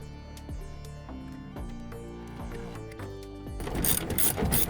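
A hand ratchet tightens the bolts on a Jeep's LED taillight in rapid, regular clicking runs up close, then a brief louder metallic rattle at the end, with no speech.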